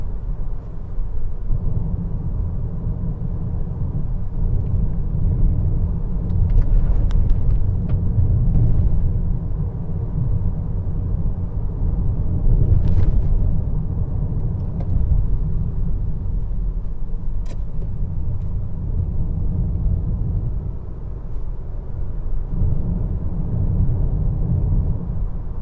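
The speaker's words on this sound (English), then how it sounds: "Road noise is fairly quiet, despite the 19-inch rims on this car." Road noise inside a 2021 Honda Accord 2.0T on 19-inch rims, a steady low rumble of tires on pavement with occasional faint bumps, continuous and moderately loud, no talking.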